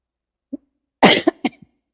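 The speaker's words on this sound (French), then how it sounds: "Laisse tousser." A woman coughs once lightly, then breaks into a louder burst of two or three close coughs, heard alone with no talking during the clip.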